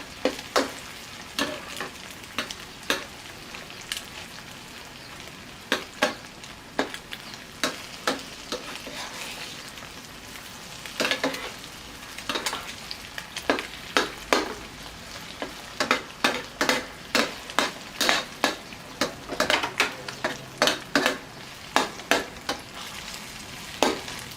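Oysters fry Penang style in a very hot pan with a steady loud sizzle, broken by frequent sharp scrapes and clacks of stirring that grow busier toward the end; no one speaks.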